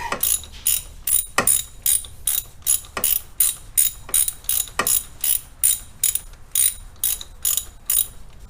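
A hand ratchet snugs the bolts on an oil cooler plate, giving steady bursts of rapid clicking strokes, each a few clicks long and repeated about twice a second, close and crisp; no voices.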